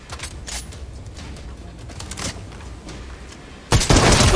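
Gunfire rattles in a Fortnite match, scattered distant-sounding shots and bursts throughout, then a loud, sustained close volley of fire in the final half second, with no voices.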